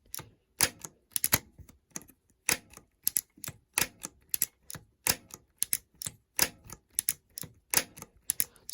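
A Shimano Dura-Ace 7800 10-speed road shifter clicks through its gears in sharp, crisp, close ticks, some single and some in quick pairs, repeating at an irregular rhythm against near silence.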